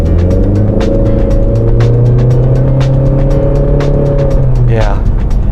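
A 2016 Honda Civic with the 1.5-litre turbo engine accelerates, its steady engine drone rising slightly in pitch, heard from inside the car with a brief tire or whine sweep near the end.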